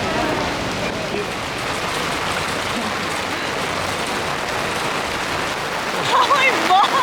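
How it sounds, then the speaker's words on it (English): Heavy rain falls in Paris as a dense, steady hiss of drops on pavement, loud and continuous, with a few faint bird-like chirps rising near the end. "standing in the rain to capture some of the B-roll"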